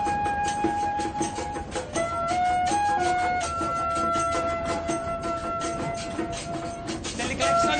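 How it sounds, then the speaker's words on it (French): A Brazilian train horn sounds in long, melodic sustained tones that shift pitch in steps, carried over the continuous rumble and rattle of the moving train, loud and close throughout. "C'est le klaxon du train."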